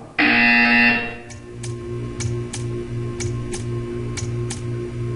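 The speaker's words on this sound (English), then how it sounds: "When you hear the buzzer, stare at the art." A loud, strident buzzer from the Portal 2 video game blares for about a second, then gives way to a soft rhythmic series of ticks over a low repeating hum.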